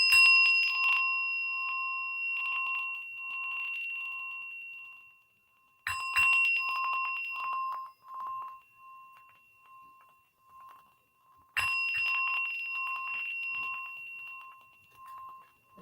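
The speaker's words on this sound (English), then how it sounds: "I'm going to ring in the bell 3 times." A single bell struck three times at a Sunday spiritual service, each strike ringing out clearly and decaying slowly over several seconds of quiet.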